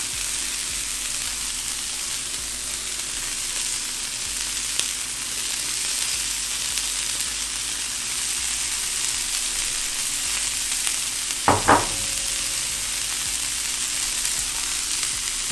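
Peppers and onions sizzling on a flat griddle for a chopped cheese sandwich, a steady loud hiss of frying with a few brief scrapes and clinks of a utensil partway through, close and without talking.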